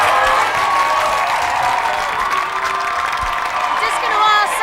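Outside the Big Brother house, a large crowd cheers and applauds loudly and without pause, with whoops and shouts in a dense, continuous roar.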